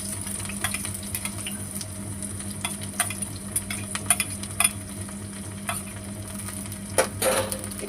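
Chopped onion and black cumin frying in oil, a continuous close sizzle broken by frequent clinks and scrapes of a spoon stirring against the pan, with no talk.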